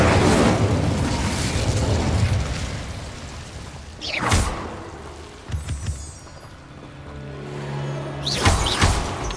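Fiery Incendio spell blasts from Hogwarts Legacy burst in sharp whooshing booms, one near the middle, a quick pair shortly after and another near the end, over a crackling, rumbling ambient bed with no voices.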